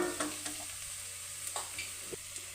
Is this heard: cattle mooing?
no